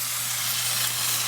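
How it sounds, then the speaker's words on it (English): King crab sizzles steadily as it cooks, a constant close hiss of frying with no talking over it. "you could hear that sizzling there"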